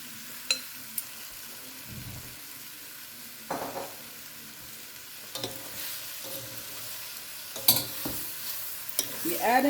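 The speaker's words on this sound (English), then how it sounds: "You add in the shrimp and give it a good stir" Shrimp added to a pan of Guyanese-style fried rice, with a low, steady sizzle under scattered clinks and scrapes of stirring, quiet and close, punctuated by a few sharper utensil hits.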